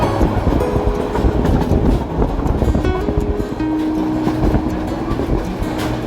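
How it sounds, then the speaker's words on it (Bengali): Kishoreganj Express rolling through Tongi Junction station without stopping, heard from on board: a loud, steady rumble of wheels on rail with clattering carriage noise and a few sustained tonal whines. "বর্তমানে আমাদের ট্রেনটি টঙ্গী জংশন রেলওয়ে স্টেশন পার হয়ে যাচ্ছে"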